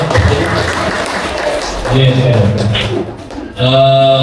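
Hands clap at a gathering marking the handover of a new building for the Nur Jarimah preschool, loud and scattered at first before voices take over and talk continues over the fading clapping.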